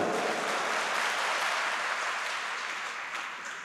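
An audience at a motivational speech event clapping together, a dense, steady wash of applause that slowly tapers, with no one talking over it.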